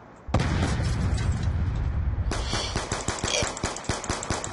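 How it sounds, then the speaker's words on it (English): A grenade explodes in a video game, a loud sudden boom with a long roaring tail, followed by a rapid run of sharp gunfire bursts. "Throw a grenade for no apparent reason."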